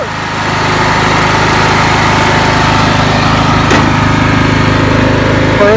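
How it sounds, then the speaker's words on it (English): A lawn mower engine runs close and loud at a steady, droning pitch throughout, with one brief knock partway through and no talking. "Mowers and blowers."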